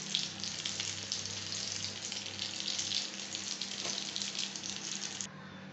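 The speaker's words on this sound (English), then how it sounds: "I'm frying the chami kebab." Chami kebab patties frying in a pan give off a steady, close sizzle for about five seconds, then the sound drops abruptly just before the end.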